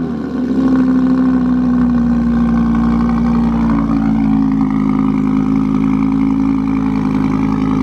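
A Ferrari 458 Challenge race car engine fires up and settles into a loud, steady idle with a strong low drone, its pitch shifting slightly as the revs change, close and continuous throughout.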